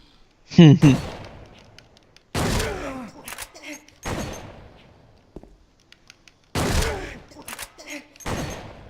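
Heavy-recoil gunfire in the Silent Hill 2 video game: four or five loud, separate booming shots spaced a second or two apart, each with a decaying tail and nothing between them but silence.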